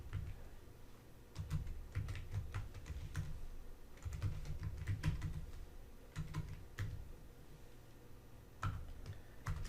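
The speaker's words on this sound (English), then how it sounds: "Click Login, and enter that password." Someone types a password on a computer keyboard. Soft keystrokes come in quick bursts with short pauses under a low background hum, close to the microphone and with no speech.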